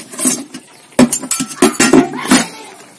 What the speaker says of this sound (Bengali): ডালটা একটু ঘেটে নেব।